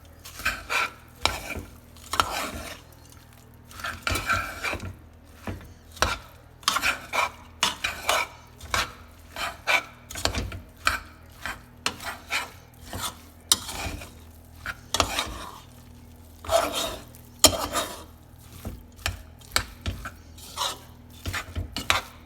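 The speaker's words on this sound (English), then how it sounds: "So now I'm just going to stir it all together." A spoon repeatedly scrapes and clinks through a thick tri tip and broccoli casserole mixture in a pot, a steady rhythm of close, moderately loud stirring strokes with no talking.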